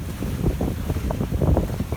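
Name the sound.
sailboat sailing in wind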